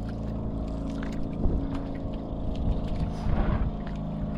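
A small motorboat chugs past on the water with a steady low engine drone and water splashing, moderately close and continuous, with no talking.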